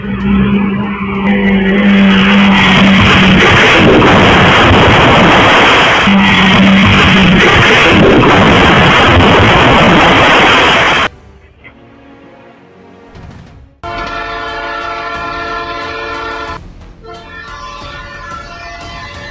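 A train slams into a car stuck on a railway crossing in Itirapina, Brazil: a long, loud roaring crash with grinding and scraping, which then drops to quieter, tonal rumbling and ringing.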